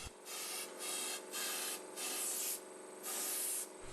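A wire brush scrubs out a hole drilled for rebar in quick back-and-forth strokes, about seven bursts of scratchy rasping in steady rhythm, close and alone.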